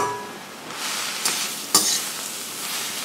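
A broccoli and carrot palya cooks in a pan over medium-low heat, giving a steady close sizzle with a couple of sharp scraping stirs and no voices.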